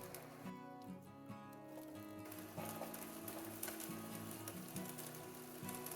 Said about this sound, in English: in go the whites of our green onions, along with the larger onion pieces